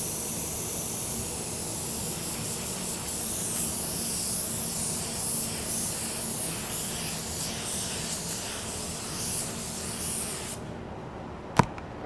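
A small compressor-fed spray gun lays down a paint coverage coat, giving a steady close hiss that runs continuously before cutting off, followed by a single sharp click.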